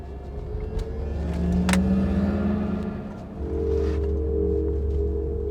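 A 2023 Mercedes-Benz EQS 580 SUV's electric drive whines rising in pitch as it accelerates hard, then a second lower tone takes over as it brakes, with road rumble underneath.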